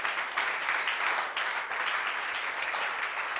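A church congregation applauds steadily throughout, a dense wash of many hands clapping with slight swells, fairly loud and without talk.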